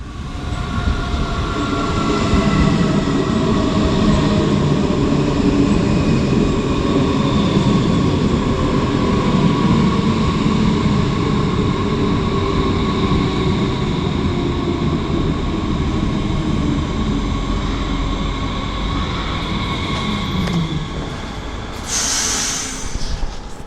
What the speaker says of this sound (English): and here we can see the arrival of my train.